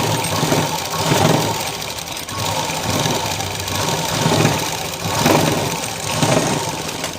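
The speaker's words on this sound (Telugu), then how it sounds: "రెండో కుట్టు కూడా ఇచ్చేయండి." Sewing machine stitching a shape belt at close range, its motor droning steadily with a rhythmic, repeating pulse of needle strokes and no voices.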